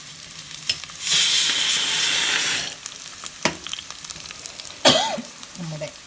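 Rice being sautéed and roasted in a pan for a Konju mullakkulitta charu curry gives a loud, steady frying sizzle for about a second and a half, then fades into scattered stirring clatter and faint kitchen noises.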